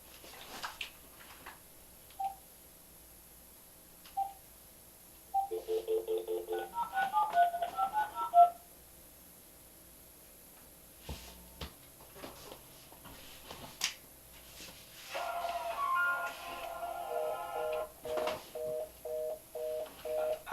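A phone handles a call: scattered beeps, a run of rapid dialing tones, a pause with a click, then a repeating electronic ring pattern pulsing steadily until the end, with no talking.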